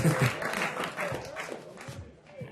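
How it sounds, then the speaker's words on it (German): A small gathering applauds a woman named Maggie at an indoor party, brief light clapping mixed with nearby talk and chatter. "Grossen Applaus Ja. für die Maggie."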